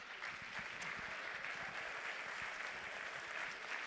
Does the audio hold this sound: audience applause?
yes